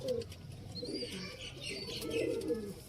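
A teddy pigeon hen cooing softly nearby, low throaty coos repeated a few times with faint chirps in the background, quiet and close.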